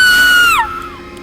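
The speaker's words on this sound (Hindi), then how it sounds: "तभी एक औरत की इतनी तेज चीख गाड़ी के अंदर ही गूंजती है" A woman's loud, high scream as a horror story sound effect, one sustained shriek that bends downward and cuts off abruptly, close and alone.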